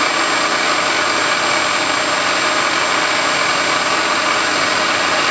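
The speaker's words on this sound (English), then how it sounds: "It's milling a notch now where the air cleaner pan will sit." A milling machine cuts a notch into an aluminum carburetor main body where the air cleaner pan will sit, giving a steady, loud, broadband whine and hiss that holds unbroken throughout with no voices.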